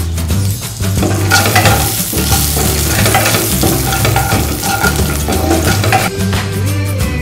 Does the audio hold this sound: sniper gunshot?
no